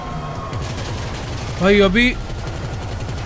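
Gunfire in the video game GTA 5 during a helicopter fight, a steady crackle of rapid shots running throughout, with a brief loud burst and someone talking over it.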